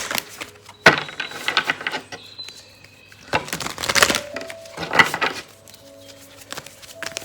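Tarot cards shuffled in the hands, giving a series of sharp riffling and tapping bursts with quieter gaps between them. The sounds are close and fairly loud against a faint low hum.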